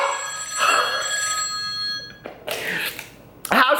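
A telephone bell rings in short bursts, loud and close, with breaks between the rings and no talking.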